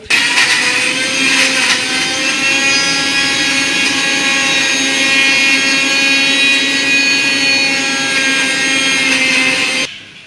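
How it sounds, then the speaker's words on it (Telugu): A mixer grinder whirs at a steady high-pitched drone for about ten seconds while grinding masala paste, running loud and close before cutting off at the end. "దీన్నైతే మిక్సీ పడదాం"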